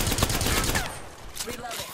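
Video game gunfire: a dense, loud burst of rapid automatic shots up front, thinning into a few scattered cracks as it tails off.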